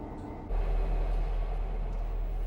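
Diesel locomotive 59102 rolls out of a two-road loco shed, a deep engine rumble suddenly swelling up close and then holding loud and steady.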